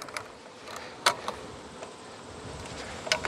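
A honeybee buzzes faintly nearby amid soft handling noises, with a few brief clicks and taps over a quiet background.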